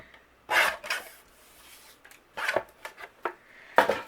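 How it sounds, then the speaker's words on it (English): Vellum paper overhanging a sticker is trimmed away in short, close rasping bursts for a handmade card, with brief pauses between strokes. "And then I'm going to trim off the excess that's overhanging."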